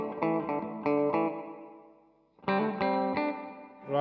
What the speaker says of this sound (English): And now we'll turn on the spring reverb